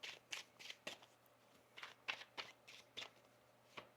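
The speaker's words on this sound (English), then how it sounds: "One more shuffle here." Tarot cards are shuffled by hand in a quiet room, giving a run of soft, quick riffling and slapping bursts at an irregular rhythm, close and faint, with a low steady hum underneath.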